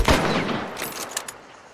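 Gunfire in a multiplayer shooter set in a bayou, with a loud burst of several close shots at the start followed by fainter, scattered distant cracks.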